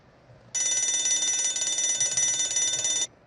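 A bell alarm clock rings inside the Nancy Drew game Shadow at the Water's Edge, a loud, rapid metallic ringing that starts abruptly, holds steady for about two and a half seconds, then cuts off.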